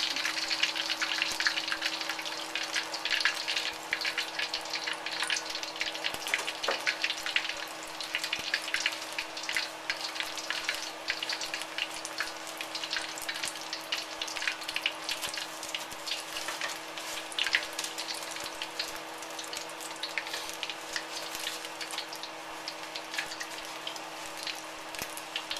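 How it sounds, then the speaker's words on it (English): Squid tentacles deep-frying in oil, an even, continuous crackling sizzle of fine rapid pops, moderately quiet and steady throughout with no talking. "I even fried up some of the tentacles."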